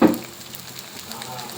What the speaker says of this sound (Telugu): మసాలా బాగా వేయించాలి